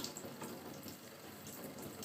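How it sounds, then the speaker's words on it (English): Tap water running into a sink to fill it and soak a Shark Rotator Lift-Away Pro vacuum filter, a steady close hiss of flowing water with no talk. "sink and making sure it gets filled and soaked with water"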